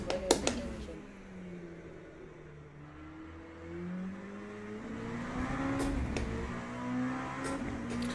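LMP2 prototype race car engine in the Le Mans Ultimate racing game, a droning, climbing engine note that rises and holds high revs over several seconds, moderately loud, with a brief click at the start.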